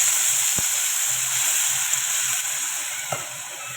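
Water poured into a pan of hot oil with fried suran (elephant foot yam) for a fasting-day curry, giving a close, steady broad sizzling hiss that slowly fades, with a couple of faint clicks from a utensil.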